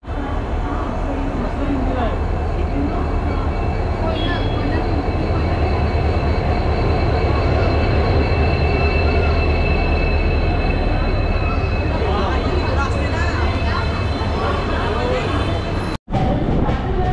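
Passenger train at Thane railway station: a loud, continuous close rumble of rolling carriages with recurring metallic wheel squeal, steady for the whole stretch, with indistinct crowd voices mixed underneath.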